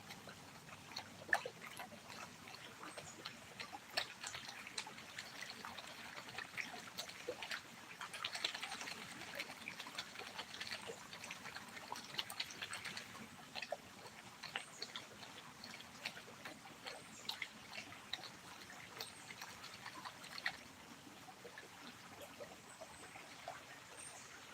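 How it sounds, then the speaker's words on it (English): A creek flows steadily beside a gold-panning spot at Bent Fork, a soft, continuous broadband rush of running water with small trickles and splashes throughout, moderately quiet and without speech. "I think a lot of people come to just hear the creek in the background."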